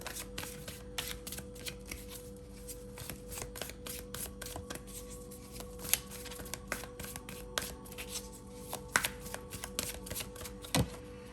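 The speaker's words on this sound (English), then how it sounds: "I'm gonna pull a couple of cards from the Animal Tarot." Animal Tarot cards being shuffled and pulled by hand, a steady run of quick papery riffles and snaps with sharper flicks near the end, close up and alone with no talking.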